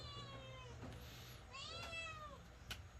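A cat meows twice, faint and somewhat distant, with drawn-out, wavering calls over low background noise.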